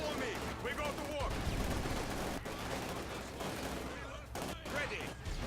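Rattling gunfire and bursts of small-arms fire in the Company of Heroes 2 World War II strategy game, dense and continuous, with sharp cracks over a busy battle din and voices calling out.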